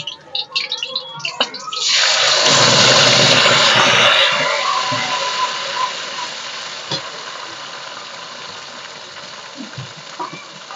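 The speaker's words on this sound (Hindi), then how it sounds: "देखिए मेथी भून गई है, मैं मसाला भूनूं" Fenugreek masala hits a hot pan with a loud sudden sizzle, then keeps crackling and slowly fading while it is roasted and stirred, with occasional scrapes of the spoon against the pan.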